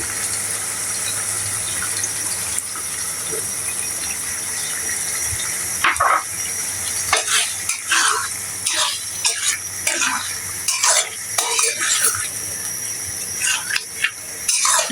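Chicken curry with spice paste fries in a pan, first as a soft, steady hiss and then with irregular bursts of scraping and stirring over the sizzle.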